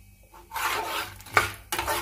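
Roasted peanuts and chana are stirred in a pan over low heat, giving two bursts of scraping and rattling with a sharp clink between them, close and alone.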